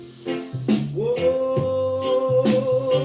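A reggae song plays steadily throughout with a melodic vocal line over bass and rhythmic accompaniment at moderate loudness.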